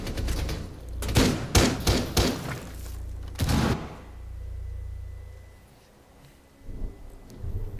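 Gunfire in a video game: a rapid cluster of sharp shots and bursts in the first few seconds, then quieter thuds and background game noise.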